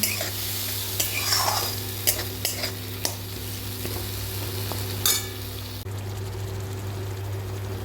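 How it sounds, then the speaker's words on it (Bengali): Masala spice paste of tomato and water fries in a pan for a yam and potato curry, a steady close sizzle with scattered scrapes and clinks of a spoon stirring against the pan. "তবে ভালো করে ভেজে নেব মশলাটা"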